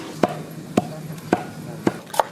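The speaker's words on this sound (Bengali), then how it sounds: "পেঁয়াজ কেটে নেব।" A knife chops onions for a village chicken curry. Five crisp, evenly spaced chops land close up on a board, with quiet pauses between them.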